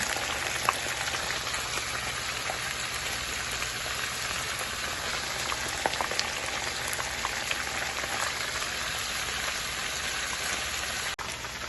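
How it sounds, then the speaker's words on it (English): Continuous crackling sizzle of fish frying for Jamaican escovitch, steady and close, with scattered little pops throughout and no speech. "This is frying over here."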